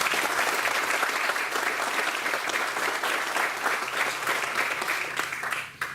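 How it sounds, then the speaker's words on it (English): An outdoor crowd applauds at a park groundbreaking ceremony, with dense, sustained clapping from many people that drops away abruptly at the very end. "How about a round of applause for these folks?"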